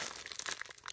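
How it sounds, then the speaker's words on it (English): Crinkly plastic and tape crumple and tear in quick bursts as a heavily taped diamond painting kit package is opened up close, busy and fairly quiet with no talking. "Let's open this up. It's very taped up."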